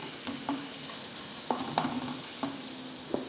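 Omelet frying in a pan while special fried rice is made, a soft continuous sizzle broken by several sharp clinks and scrapes of a utensil stirring against the pan, close by and without talk.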